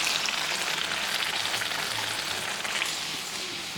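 Bhatura deep-frying in hot oil, a dense steady sizzle and crackle like heavy rain that holds evenly from start to finish, close up and with no voices.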